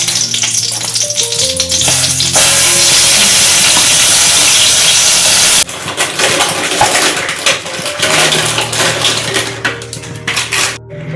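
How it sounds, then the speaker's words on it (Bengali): Prawns coated in salt and turmeric fry in ghee in a wok for a chicken-free prawn malai curry, giving a loud, close burst of hissing sizzle with metallic clatter and clinks around it and no talking. "কড়াইতে না একটুখানি ভালো ঘি দিয়ে আর ওই নুন হলুদ মাখানো চিংড়ি"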